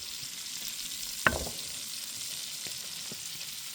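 Onions fry in a very hot pan over a campfire, giving a constant even sizzle, with a single sharp clack of the pan or utensil partway through.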